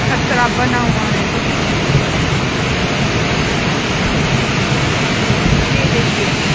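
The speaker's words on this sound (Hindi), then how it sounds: "बारिश यहाँ पर हो रही है, लगातार बारिश हो रही है, रात भर से बारिश हो रही है।" Continuous heavy rain and a swollen, flooding river at Thunag market in Mandi roar as one broad, steady wash of noise, loud and unbroken throughout with no speech.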